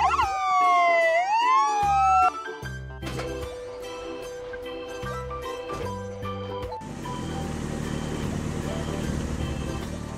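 A toy white ambulance siren wails in sweeping up-and-down tones for about two seconds, then gives way to toy vehicle jingles and music.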